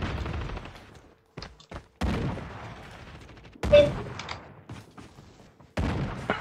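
Video game gunfire comes as a series of sharp bursts and booms of varying strength, close and dense in places, separated by brief lulls, with game sounds filling the gaps.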